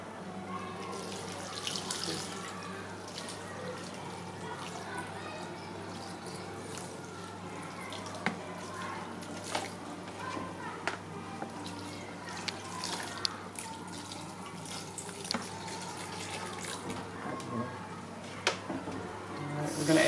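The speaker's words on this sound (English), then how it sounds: "now we're adding water to the grated coconut." Water trickles and splashes into a bowl of grated coconut, a quiet, uneven pour with small drips and spatters throughout, heard close up under occasional talk.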